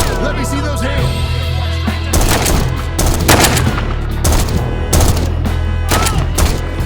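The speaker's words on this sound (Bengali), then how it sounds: "গুলি করতেছে।" Gunfire in the first-person shooter game Zero Hour cracks out in several loud, separate bursts over a steady droning musical background, with no talking.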